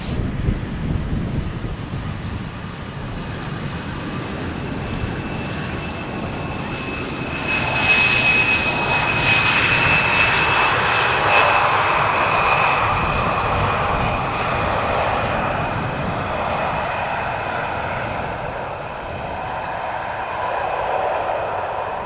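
Jet airliner on runway 18R at Amsterdam Schiphol Airport, a loud, steady engine roar with broadband rush that swells midway and lingers, plus some wind buffeting on the microphone.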